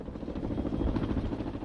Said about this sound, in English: Did you see the helicopter hovered?